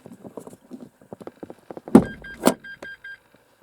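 A plastic emergency parking brake release handle sits on the floor between the front seats of a Renault Espace IV. It is pulled with small rattles and scrapes, then gives two sharp, close clicks in quick succession.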